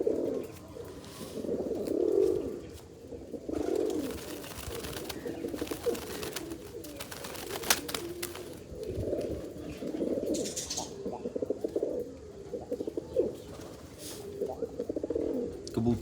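Pigeons coo in low, rolling bursts again and again, close and fairly loud, with a voice talking now and then among them.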